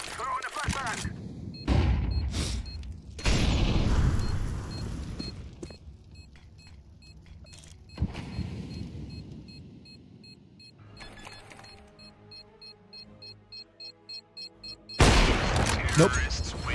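Video game combat with a flashbang and gunfire, heard as loud bursts of shots and booms broken by quieter gaps and a stretch of rapid repeated pops, with people talking over parts of it.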